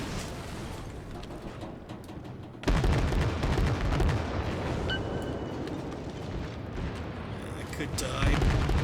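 Secondary guns of a ship in World of Warships fire in a heavy, rumbling barrage of booms and blasts that surges loudly after a short lead-in and carries on, with a player talking over it.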